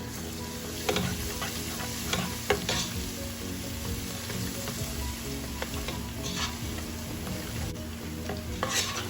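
Onions and ginger-garlic paste fry in a pan for a chicken and okra dish, giving a constant close sizzle with occasional clinks and scrapes of stirring.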